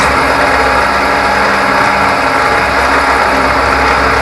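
A 12 mm four-flute milling cutter running at 1000 RPM, steady loud continuous whirring machining noise with no pauses, working on a fire grate column base.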